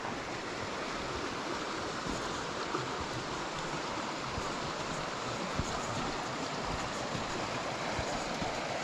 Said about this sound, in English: So that shows you the power of the water where it's rushing past the leg of the viaduct.